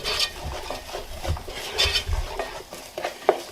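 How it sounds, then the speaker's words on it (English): Fennel seeds being stirred in a pan, with soft scraping, rattling and light clinks of the utensil against the pan in an uneven rhythm, close and moderately quiet. "Stir those around."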